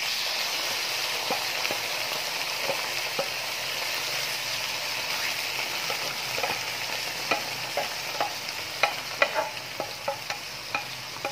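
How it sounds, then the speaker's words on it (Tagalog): Marinated pork joins sautéed onion and garlic in a hot pan for igado, giving a steady loud sizzle with stirring clicks that grow denser and sharper toward the end, no one speaking. "Ilalagay na po natin ang ating na-marinate na pork with the other ingredients."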